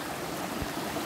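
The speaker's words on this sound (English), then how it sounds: "the water coming down this way, and then it flies down here" Water pours down over massive bedrock outdoors, a steady, close rushing and splashing that fills the scene evenly with no pauses.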